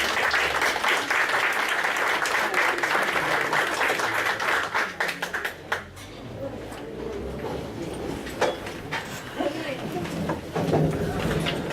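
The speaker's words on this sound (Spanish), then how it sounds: "despidámoslo con un fuerte aplauso" An audience gives a departing lecturer at a public procurement seminar a round of applause, dense sustained clapping that thins after about five seconds and then continues more sparsely.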